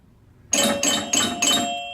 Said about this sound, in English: there were the 4 chimes adding credits